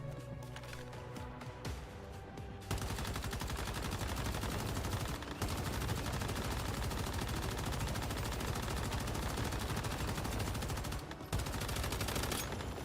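Rapid continuous automatic gunfire aimed at a boss in the video game Once Human, loud and dense, starting after a quieter opening and holding with brief pauses.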